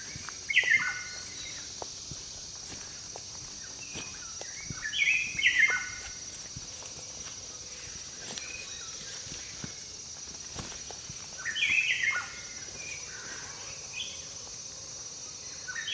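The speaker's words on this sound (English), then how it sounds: "I can hear a beautiful dawn chorus. I can hear Abyssinian ground thrush, Abyssinian catbird, a few other birds I cannot ID." Several short bursts of birdsong ring out in an Ethiopian dawn chorus that includes Abyssinian ground thrush and Abyssinian catbird. The calls are spaced apart over steady, faint insect hiss and occasional soft thumps nearby.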